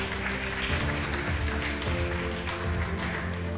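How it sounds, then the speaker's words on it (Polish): An audience applauds at a sports awards ceremony for quadrathlon and masters athletes, a dense, steady patter of clapping filling the room with no voices over it. "Prosimy o brawa."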